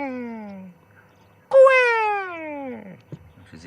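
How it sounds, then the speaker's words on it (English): Call of a turaco, recorded live on a morning safari at Ngala Private Game Reserve: two loud, drawn-out wailing notes, the second rising sharply then sliding down, separated by a short pause, with faint clicks at the end. "most of their relatives, the taracos, are bright greens and reds and blues and yellows, and they sound like this"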